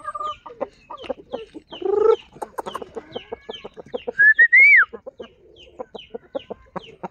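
A Japanese Shamo chicken in a backyard flock clucks repeatedly at close range in short, choppy bursts, with one louder squawk and a brief rising call mixed in.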